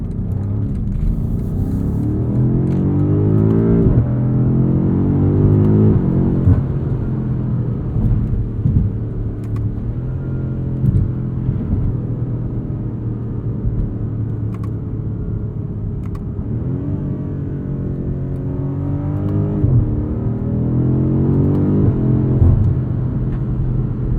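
A 2021 BMW M5 Competition accelerating hard, its engine rising in pitch through repeated gear pulls with sweeping harmonics, loud and close from inside the cabin, with brief dips between shifts and no talking.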